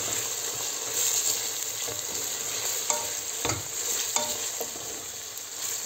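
Tomato and pepper paste frying with onion and meat in a pan, a steady loud sizzle broken by repeated scraping stirs and a few sharp utensil knocks against the pot.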